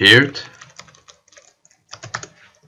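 Typing an airodump command on a computer keyboard, a short burst of close, irregular key clicks in two clusters after a brief voice at the start.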